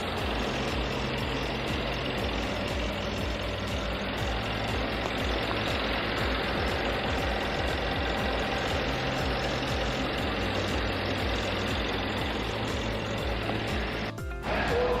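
A 2017 Mercedes-Benz GLE Coupe 63 AMG S engine idles steadily and close by, a constant dense rumble with faint mechanical ticking, ending in a brief knock and slight shift in tone.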